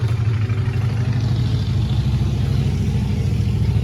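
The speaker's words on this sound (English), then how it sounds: "sorry, loud motorcycle." A loud motorcycle passes nearby, giving a steady, deep, throbbing engine rumble that stays strong through the whole moment.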